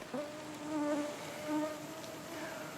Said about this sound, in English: Oh, mosquitoes.